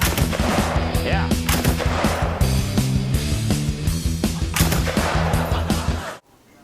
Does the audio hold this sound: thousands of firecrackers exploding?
yes